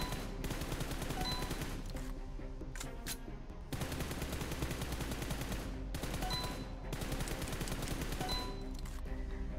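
An automatic rifle fires in PUBG Mobile in long continuous rapid bursts at a steady pace, broken by two short pauses.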